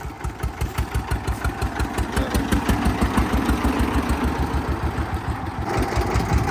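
An old modified DT 14 tractor engine running nearby, a loud, steady rhythmic single-cylinder thump with a slightly rough, knocking beat.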